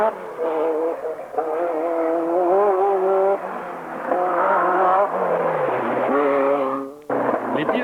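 Renault 5 Turbo rally car racing on wet, slippery Corsican roads, its engine revving loudly and continuously with rising and falling pitch through gear changes, close and prominent.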